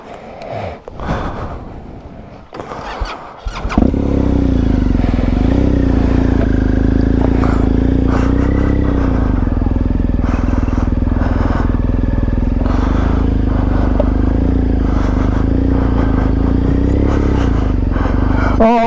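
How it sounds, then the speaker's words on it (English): A BMW GS motorcycle is started and ridden along a backyard woodland path, with a brief handling clatter and breathing before the engine catches into a loud, steady close-up drone that holds to the end. "there's nothing more fun than riding the GS through the woods of my backyard"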